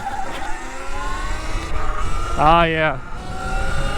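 A Sur-Ron electric pitbike whines up in pitch as the throttle is tested on a first ride, a short rising electric motor tone under voices and outdoor wind.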